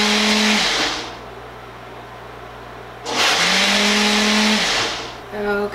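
A blender whirring through walnut sauce runs in two loud, steady high-pitched bursts with a pause between them, the motor pitch shifting as it spins up and winds down, close by, with a quieter hum during the gap.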